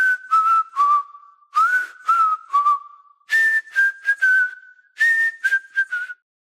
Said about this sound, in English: Want me to whistle us a little tune while we run?